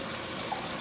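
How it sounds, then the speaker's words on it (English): Red wine swishes around inside a tomato sauce can, a soft continuous liquid slosh and trickle that is brief and fairly faint. "Pouring the red wine in there,"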